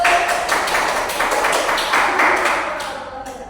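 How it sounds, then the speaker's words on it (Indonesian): Classroom applause for a student group after a presentation, a dense burst of many hands clapping that holds steady for a few seconds and then trails off as it fades. "Terima kasih untuk kelompok 1 kita beri aplaus"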